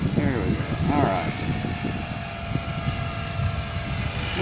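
A 450 size RC helicopter flies nearby with a steady high-pitched motor whine and rotor buzz, while people talk over it.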